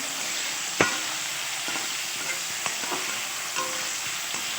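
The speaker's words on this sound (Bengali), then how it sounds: "সেম তেলের ভেতর আমি এখানে আলু আর পেঁপেটাকেও দিয়ে ভেজে নেব" Potato and papaya pieces fry in oil for Bengali shukto, a steady broadband sizzle running throughout with a few brief stirring clicks and scrapes of a spatula.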